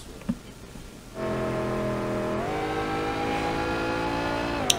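Car driven around town in the video game Sleeping Dogs on Xbox One, its engine kicking in and droning steadily, pitch rising slightly through gear changes, loud and close.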